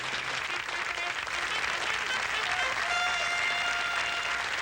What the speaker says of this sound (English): those people are clapping for you running down the road